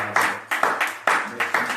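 A church congregation clapping in acclamation to the Lord, with loud bursts of rhythmic, rapid claps in pulsing waves, mixed with voices calling out.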